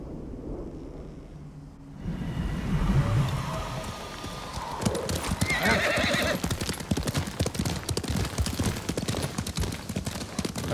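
A horse's hooves clip-clop at a steady trot while being ridden in Ghost of Tsushima. The hoofbeats start after a quiet opening, are close and loud, and carry on to the end, with brief whinnying and rustling early on.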